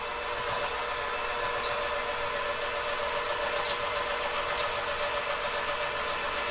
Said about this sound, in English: So I just give it a really good machine whisk.